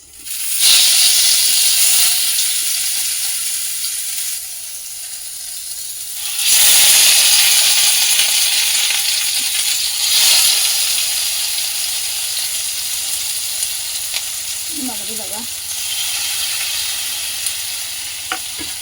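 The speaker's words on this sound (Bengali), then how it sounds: "এগুলো আমি একটু হালকা কড়াই তেলে অল্প আঁচে ভেজে নেবো" Pieces of prawn paturi wrapped in pumpkin leaves fry in oil in a kadai over a low flame, giving a steady loud sizzle and hiss that swells and eases as they are moved about, with no talking.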